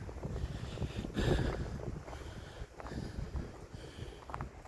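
Small boat outboard motor fitted with new screws, running along the coast, a steady engine drone mixed with heavy wind buffeting and water noise.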